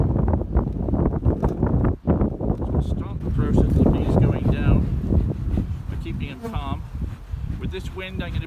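Strong wind buffeting the microphone beside an open beehive during a hive split, a continuous loud low rumble with gusts, while a person talks over it throughout.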